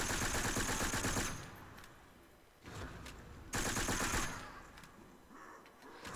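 MP40 submachine gun fire in a Call of Duty zombies game comes in rapid automatic bursts, two long sustained strings of shots separated by a short pause, loud and close with no talk over them.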